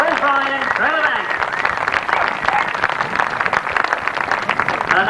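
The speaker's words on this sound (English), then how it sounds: "why not a round of applause for first, second and third, Clayton Williams, Paul Bryan, Trevor Banks." Applause for the top three finishers at a 1994 Lincolnshire grasstrack race meeting, a steady patter of many hands clapping outdoors beneath a voice talking over it, continuing for several seconds.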